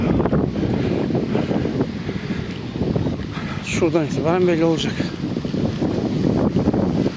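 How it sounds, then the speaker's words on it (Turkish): Strong storm wind buffets the microphone on a pier at Şarköy while waves pound against it, a steady roaring wash with a voice talking over part of it. "Dalgalar iskeleyi dövüyor."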